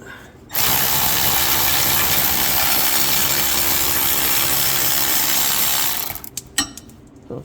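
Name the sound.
electric ratchet loosening a starter bolt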